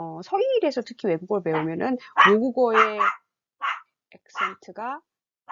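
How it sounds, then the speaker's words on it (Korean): A big pet dog barks nearby inside a house, sharp barks breaking in among a woman's continuous speech. "큰 강아지가 옆에서 짖고 있습니다."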